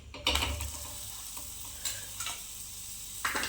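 Puran poli flatbread frying in oil on a hot pan: a soft, steady sizzle with a few brief louder crackles and scraping bursts, close and fairly quiet.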